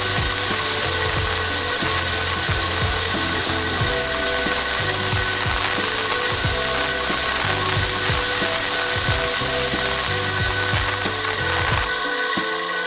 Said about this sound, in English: Turn off the welding machine.